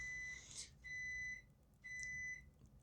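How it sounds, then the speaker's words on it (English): An alarm beeps in repeated bursts of steady high electronic tones, each lasting about half a second, with short gaps between them, heard fairly faint against a quiet room. "fucking alarms."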